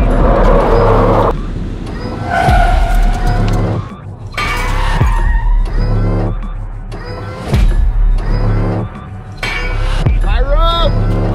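Car engine revving with tire skids and thuds during contact driving training for protective-agent drivers, loud and up close, under shouted voices and other voices talking throughout.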